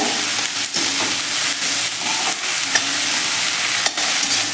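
Eggplant is stirred through a spice masala in a hot pan, giving a continuous sizzle with scraping spoon strokes and clinks scattered throughout, close and steady with no voices.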